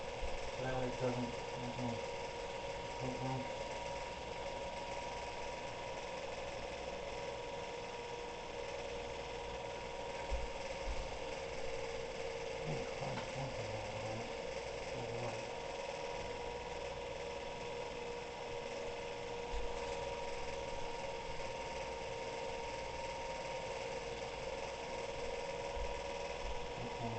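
The motor of a Spirit Halloween limb ripper animatronic prop runs with a steady, even mechanical hum for almost half a minute, with faint voices and handling noises now and then.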